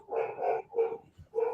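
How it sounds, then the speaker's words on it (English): Dogs inside a house bark in a quick series of four sharp, fairly close barks with brief gaps between them. "Sorry, our dogs are going nuts this evening."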